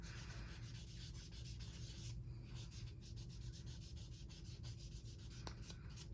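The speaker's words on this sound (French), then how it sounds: "Donc, je ponce mon ongle." A fingernail is sanded with a nail file in steady, rapid back-and-forth strokes, producing a close, continuous scratchy rasp with a brief pause partway through, and no voices.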